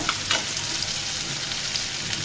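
Shrimp fry in hot oil with a steady, even sizzle that stays close and unbroken throughout, with no voices.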